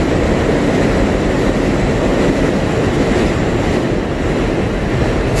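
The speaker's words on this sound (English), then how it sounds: "Okay, the train passed." A subway train rumbles past close by on the 7 line at 74th Street in Jackson Heights, Queens, a loud steady roar with rattling clatter of wheels on track filling the whole stretch, no voices.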